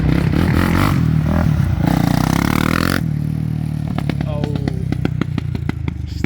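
A side-by-side with a swapped-in snowmobile engine runs rough, sputtering and popping with irregular sharp bursts. Voices talk over the engine nearby, and the engine note shifts midway before the spitting cracks take over.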